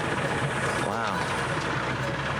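A vehicle engine idles steadily on a hot morning in Zanzibar, East Africa, a low continuous rumble running under people talking before it is shut off.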